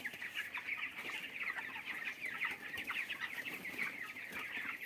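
Chickens cluck steadily inside a poultry shed holding 22-day-old birds, a dense, continuous chorus of many hens close by with no pauses and no talk.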